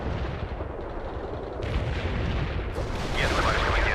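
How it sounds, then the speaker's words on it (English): An artillery barrage rumbles in the World in Conflict video game, a steady low roar of distant booms building over several seconds beneath a dense, continuous din of battle. "Launching a barrage. Artillery strike on the way."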